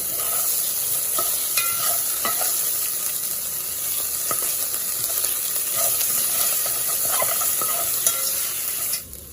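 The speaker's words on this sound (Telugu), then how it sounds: "ఒక టేబుల్ స్పూన్ అల్లం పేస్ట్ అయితే వేసుకున్నాం సరిపోతుంది ఇంకా దీన్ని కూడా తిప్పుతా ఉన్నాం" Ginger paste sizzles in hot oil for a pork curry while a spoon stirs it steadily, giving a loud continuous frying hiss with repeated scraping strokes against the pan, close up and without voices.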